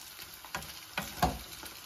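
Sausages fry in a pan in a student kitchen, giving a close, steady sizzle broken by a few sharp crackles and stirring knocks.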